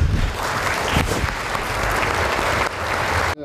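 A parliament hall full of deputies gives a standing ovation, dense sustained clapping from a large crowd that holds steady for several seconds before cutting off abruptly.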